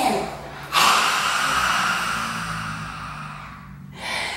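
A person imitates a Tasmanian devil's breath for a toddler animal yoga class, producing one long, forceful, breathy exhale that fades over a few seconds, followed by the start of another breath.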